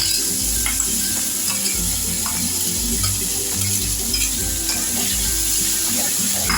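Mashed onion greens being sautéed in a pan, sizzling and frying steadily while a utensil stirs and scrapes in repeated bursts, loud and close throughout, with no talk.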